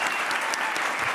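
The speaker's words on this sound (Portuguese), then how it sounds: "Palmas pra caneca," A studio audience claps in a short, dense burst of applause at a late-night television talk show, loud and even throughout.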